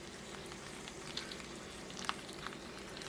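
Squash pieces frying in olive oil in a pan give a steady, soft sizzle with faint crackles and a couple of small pops, heard alone with no voices.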